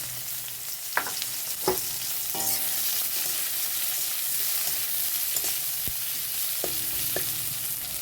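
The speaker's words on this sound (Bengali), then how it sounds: "পেঁয়াজটা ভাজা ভাজা হয়ে গেছে" Continuous loud sizzling of chopped onions and cumin seeds frying in a pan, with a few sharp clinks of a utensil stirring at intervals.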